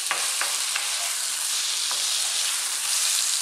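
Chinese sausage stir-fries in a hot pan with a bright, continuous sizzle, and a few sharp clicks of a utensil scraping and stirring sound near the start and middle, with no talk.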